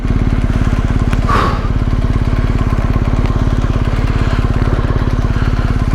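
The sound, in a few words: motorcycle riding on rural Australian road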